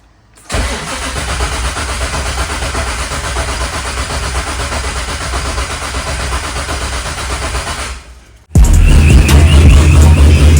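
A swapped LS7 V8 in a Cadillac CTS-V is cranked on the starter for about eight seconds in one long, steady churn, then it stops and a loud, close engine roar follows.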